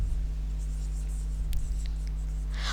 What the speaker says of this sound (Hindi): तो हम शू साइज़ लिख लेंगे